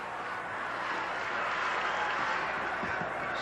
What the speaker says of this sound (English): And the Wheelersburg bench up applauding.